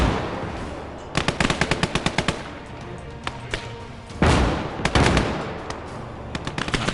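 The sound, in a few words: gunfire and artillery in video game Call to Arms: Gates of Hell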